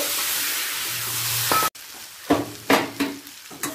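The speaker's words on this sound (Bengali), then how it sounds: "আলু আর সয়াবিনটা মশলার সাথে ভালো করে কষিয়ে নেব" Fried potatoes and soya chunks are sautéed in spice masala, with a steady sizzle, a sudden cut, then several sharp spatula scrapes over quieter frying.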